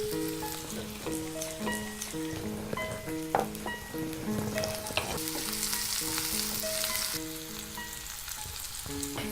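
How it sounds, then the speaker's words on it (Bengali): Half a cup of onions frying in a pan for a vegetable chicken dish, a steady crackling sizzle with occasional stirring scrapes, fairly close, over faint tonal background music. "আধা কাপ পেঁয়াজ আছে, আমি পুরোটাই দিয়ে দিচ্ছি।"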